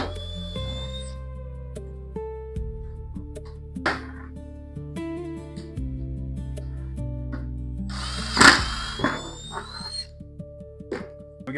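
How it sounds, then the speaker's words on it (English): A power drill bores a hole through the bottom of a pan for a DIY chicken feeder, its motor whining in steady bursts with pitch shifts as it bites, plus a sharp scraping clatter partway through. "We will drill a hole big enough to accommodate our fastener right in the bottom of this pan"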